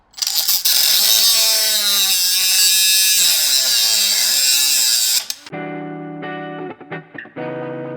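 A Milwaukee M12 straight die grinder, used with a cutoff wheel, whines loudly at high speed for about five seconds, then winds down into a lower, shifting hum with brief dips.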